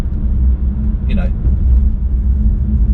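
Steady low road rumble from a car being driven, continuous and fairly loud throughout, with a brief higher squeak-like sound near the middle.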